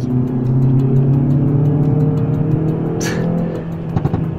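A 2018 Hyundai i30 N Performance with an electronic limited-slip differential driven hard through corners, its engine droning loud and steady from inside the car, with a brief tire squeal and a few clicks near the end.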